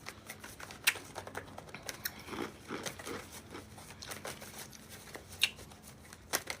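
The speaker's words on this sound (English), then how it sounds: "I'm going to pull some cards" Tarot cards shuffled by hand in a quiet room, giving soft riffling and flicking with sharp snaps and taps scattered through, close and fairly faint, no talking.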